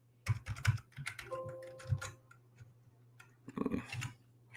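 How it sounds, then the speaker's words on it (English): Typing on a computer keyboard sounds as close, crisp clattering keystrokes in quick irregular bursts, with a short pause midway and a steady low hum underneath. "I can even fucking type correctly today."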